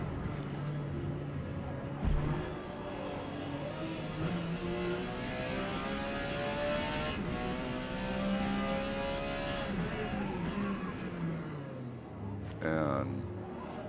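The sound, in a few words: Porsche 956 race car engine in Forza Motorsport video game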